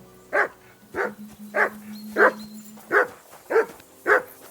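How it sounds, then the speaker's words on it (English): In the video game Kingdom Come Deliverance II, a dog barks seven times in a steady, evenly spaced series of sharp, fairly close woofs over a quiet background. "Call off that mutt of yours."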